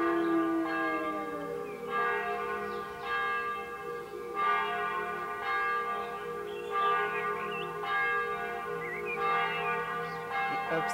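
Church bells ring steadily in a slow, regular series of resonant strokes, moderately distant, with no talking.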